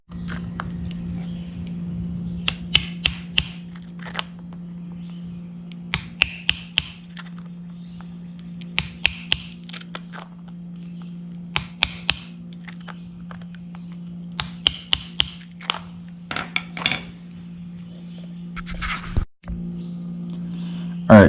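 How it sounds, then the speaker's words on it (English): Holes poked into a penny can survival stove, heard as short groups of sharp metallic taps and clicks repeated at intervals over a steady low hum, with one louder clunk near the end. "you need to poke a couple holes here in the middle"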